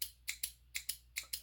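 Small micro scissors used for wire art snip repeatedly, six crisp close metallic clicks in quick pairs, quiet and alone.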